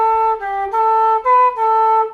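A flute plays a short phrase of five clear sustained notes from a traditional tune, near and bright, alone without voices.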